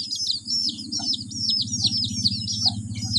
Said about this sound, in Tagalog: Kawawa naman itong alaga na sisiw.